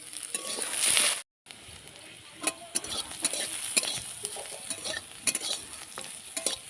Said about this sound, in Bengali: এগুলো ভালো করে ভেজে নেব।